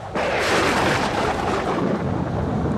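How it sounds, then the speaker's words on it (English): Thunder from a violent storm breaks suddenly into a loud, sustained rolling rumble that slowly fades, close and heavy, with no voices. "Suddenly, a violent storm blew up."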